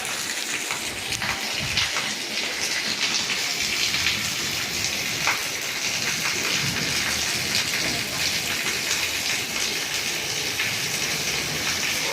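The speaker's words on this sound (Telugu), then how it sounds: "చూడండి వర్షం వర్షం వర్షం" Steady downpour in Hyderabad fills the air with a thick, unbroken roar of rain splashing on hard surfaces nearby, loud throughout.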